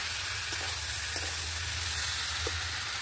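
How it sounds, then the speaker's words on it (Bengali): Spices fry and are stirred in a pan for a Bengali pumpkin and Malabar spinach ghonto, a steady close sizzle with faint scraping stir sounds. "মশলাগুলো দিয়ে ভালো করে নাড়াচাড়া করব।"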